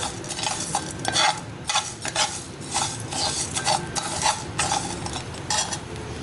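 Coriander and fennel seeds dry roasted in a pan for a quick mango pickle, with a spoon stirring and scraping in a rapid, continuous rhythm of rattles and clinks, close up and fairly loud.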